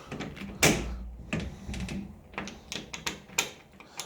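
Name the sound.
cabinet door being pulled open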